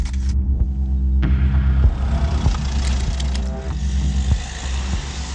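A car driving along with a steady low engine rumble and road noise, a window opening partway through, heard close from inside the vehicle.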